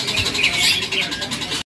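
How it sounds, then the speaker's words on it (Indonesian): Songbirds at an Indonesian bird seller's shop chirp and twitter densely and constantly, a busy, bright chorus of many small birds close by in their cages. "Burung gacor-gacor."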